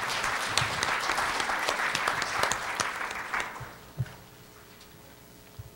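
An audience at a dementia care workshop claps steadily for panelists taking their seats, the applause tapering off after about four seconds into a quiet hall with an occasional thump.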